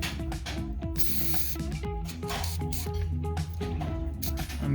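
Close hissing bursts of Fluid Film lubricant sprayed from an aerosol can onto a Magped Enduro pedal spindle, steady through the clip with clicking and handling noise mixed in.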